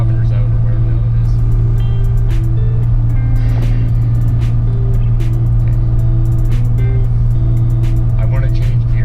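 A Cummins diesel truck engine drones low and constant as it crawls uphill in first gear at about 2,500 RPM on a snowy Canadian mountain road, while someone talks over the steady cab rumble.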